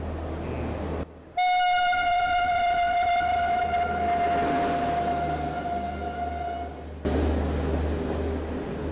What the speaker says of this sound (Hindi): ये सारी जो गाड़ियाँ हैं ना हमारी ट्रेन को ओवरटेक करके आ रही होंगी